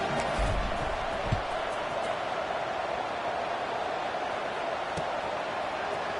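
A college football stadium crowd keeps up a steady, dense roar of buzzing noise after a score, with a few brief thumps early on and no clear speech on top.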